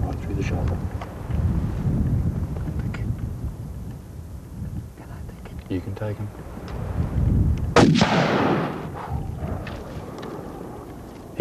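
A single loud hunting rifle shot rings out at a stag entering a mountain clearing, its sharp crack and rolling echo standing out against steady outdoor background noise.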